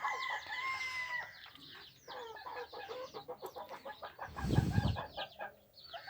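Chickens clucking nearby on a rooftop with a rooster crowing among them, plus a brief low thump of handling noise partway through.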